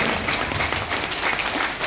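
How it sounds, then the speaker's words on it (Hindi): An audience claps at a product testimonial gathering, producing a continuous, moderately loud wash of many hands with no speech over it. "हमारे इसके मौर्य जी के नाम से जरा ताली बजा दीजिएगा।"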